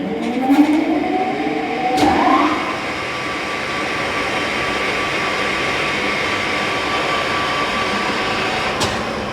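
A Kingston HR2000 34 by 80 inch heavy-duty gap bed engine lathe runs in reverse. Its motor ramps through a rising whine, then settles into a loud, steady mechanical hum.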